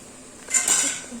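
Cooked vegetables for mint pulao are shifted into another cooking pot, giving a brief metallic clank and scrape of utensil against pot, quiet and over in under a second.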